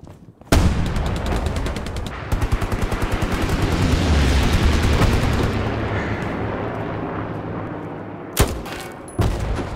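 Heavy gunfire from the video game Hell Let Loose, a rapid machine-gun burst followed by a sustained roaring barrage, then sharp isolated shots near the end.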